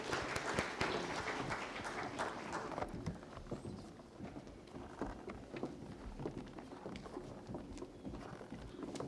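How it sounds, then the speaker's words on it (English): A conference audience at a national technical textiles conclave breaks into applause, dense rapid clapping that starts loud and thins slightly but keeps going, heard from within the room. "Loud applause,"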